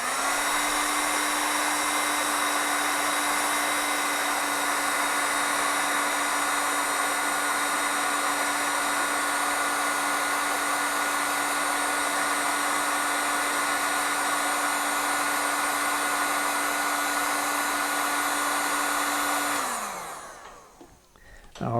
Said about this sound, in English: I'm just going to take another piece and heat shrink right over top of that